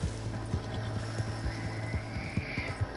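A horse in Red Dead Redemption 2 online, its hooves clip-clopping in a steady near rhythm over a low hum, with a brief neigh or whinny in the mix.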